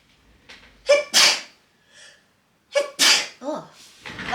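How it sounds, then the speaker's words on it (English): Two sharp, loud sneezes in quick succession, each with a short sucked-in breath before the burst, close up and separated by a brief pause, with faint mumbling near the end. "do you guys ever sneeze in twos?"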